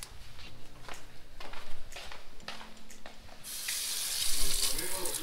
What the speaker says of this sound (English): just run cold water on top of them